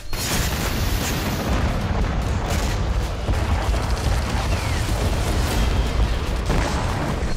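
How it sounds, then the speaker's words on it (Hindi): Explosions and booming blasts from a North Korean military weapons display, a dense continuous roar of detonations and artillery-like fire, loud and sustained without pauses. "किम के हर धमाके में एक पैगाम होता है"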